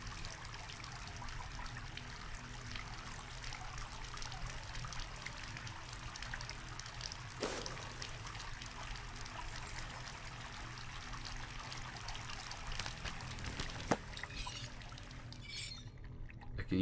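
Water pours steadily in the Asylum video game, a quiet continuous trickling stream running for over fifteen seconds with a couple of faint clicks, then cutting off at the end.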